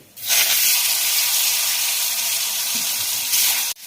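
Raw mango pieces dropped into a hot pan of spiced oil for chutney burst into a loud, close, steady sizzling hiss that holds for several seconds before cutting off abruptly.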